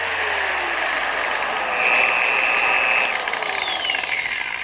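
Adam's Polishes Swirl Killer Mini polisher whirring steadily up close, a high continuous motor whine whose pitch rises to a faster speed and then drops back, with no talking.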